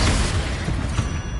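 A Confringo blasting spell explodes in the Hogwarts Legacy video game, heard as a dense, continuous low rumbling boom filling the whole moment, loud and close with no talking.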